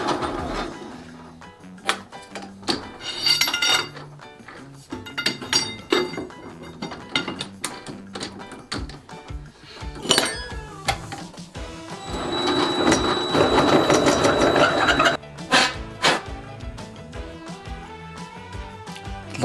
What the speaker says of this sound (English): Feast your ears on all that chatter. That's not what you want to hear if you're trying to machine something precise.